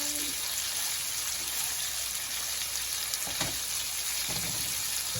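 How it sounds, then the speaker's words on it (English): Steaks fry in a pan with a constant close sizzle and crackle, with a few louder pops and spits along the way. "So I'll cook them for 4 minutes on each side."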